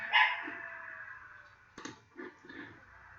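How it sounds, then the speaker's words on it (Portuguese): A dog barks a few times in a home, the short muffled barks sounding somewhat distant and faint against a quiet background. "meu cachorro aqui começou a latir"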